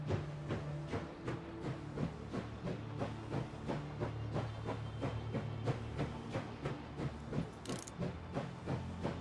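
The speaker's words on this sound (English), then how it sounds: "Start the train again." Steam locomotive engine in the video game Last Train Home starts up, with steady rhythmic chuffing and mechanical clanking repeating throughout over a constant low rumble and hiss, close and continuous.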